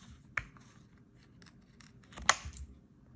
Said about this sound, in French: on vient bien sûr découper cette forme qu'on collera ensuite à la résine UV